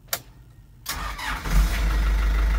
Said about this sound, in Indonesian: Sebentar saya nyalain dulu.